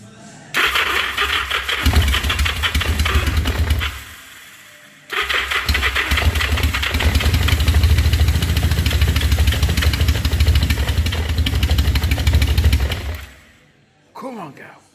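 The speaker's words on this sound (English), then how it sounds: "We'll give it a good crank over with the choke out and we'll see how it goes." A 1980 Yamaha XS1100 motorcycle cranks over with the choke pulled, its loud engine roaring in two long sustained stretches, briefly dropping out between them before fading near the end.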